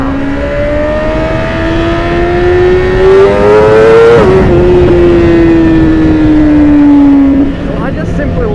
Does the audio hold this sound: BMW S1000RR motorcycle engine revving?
yes